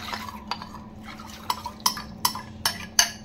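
Orange-flavoured milk pudding mixture is stirred in a pan over a medium-low gas flame, with a low burner hum and sharp metallic taps and scrapes of the spoon against the pan, growing more frequent toward the end.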